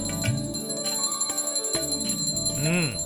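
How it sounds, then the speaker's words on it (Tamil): A bell rings out several times in an indoor scene, bright ringing strikes with sustained tones, the last ring wavering and swelling, with voices briefly heard around it. "பெல் அடிங்க"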